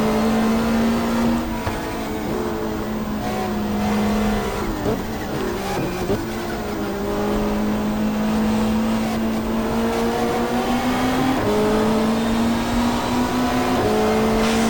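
Triple P Racing BMW super touring race car in the GTR2 racing game, its engine droning loudly and steadily close up with shifts in pitch as it changes gear, running without talk.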